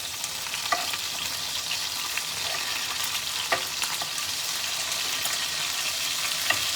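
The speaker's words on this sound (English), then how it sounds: "Just want to make sure they're equally seared all the way around." Scallops sear in a hot pan with a steady, close sizzle that runs throughout, broken by occasional faint clicks and shifts as they are moved around.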